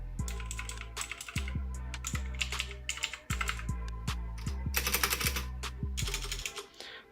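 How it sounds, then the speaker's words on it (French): Mechanical keyboard with clicky Blue switches, a Glab Keyz Carbone 2, typed on in quick irregular bursts of sharp clacks and key bottoming, close and moderately quiet with no speech. "Voilà, c'est bien du Blue Switch."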